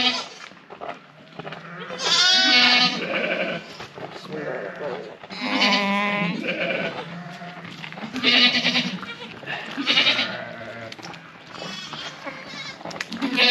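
Sheep and a newborn lamb bleat during lambing, several wavering calls close by in bursts, with people talking in between.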